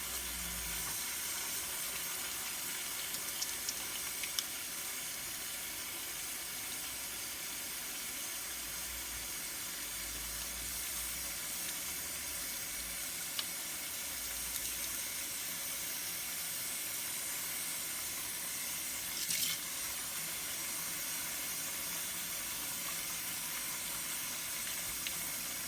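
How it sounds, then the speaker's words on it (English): Tap water runs steadily into a sink while hands are rubbed with soap. A constant, soft, close hiss of flowing water continues for about 25 seconds with little change. "I'm going to get my soap here. I'm just going to rub my hands."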